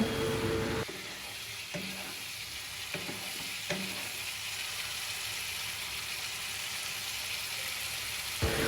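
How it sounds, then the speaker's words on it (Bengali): Spice paste with cumin and coriander powder fries in a pan, a steady close sizzle broken early by a few scraping stirs, then settling into an even hiss before cutting off at the end. "মশলাটা কষিয়ে নেব। সাথে একটু জিরে গুঁড়ো আর ধনে গুঁড়ো অ্যাড করব, আর ভালো করে নেড়ে চেড়ে নেব।"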